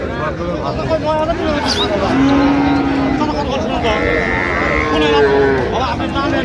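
Cattle, including young heifers and bulls, mooing at a busy cattle market in Chandpur, with several long low calls rising above a constant crowd hubbub and people haggling nearby.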